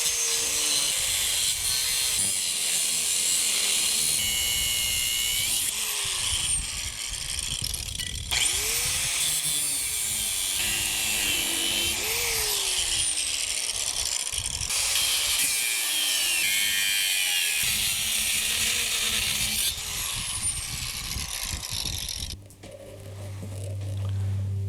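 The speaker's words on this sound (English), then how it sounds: "obviously this is a job for the grinder" An angle grinder cuts metal on a tractor outdoors, a loud high whine that keeps swooping in pitch as the disc loads and frees, with short pauses and restarts, then the motor spins down near the end.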